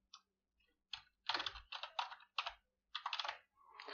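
Typing on a computer keyboard: close, crisp key clicks in quick bursts and short runs separated by brief pauses, heard alone without any talking.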